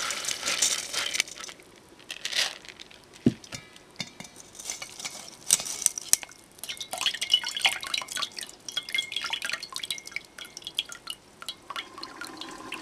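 Washed sticky rice (malagkit) drains: water drips and trickles in irregular bursts, mixed with wet crunching and rustling of the grains, fairly close and quiet, with pauses between splashes.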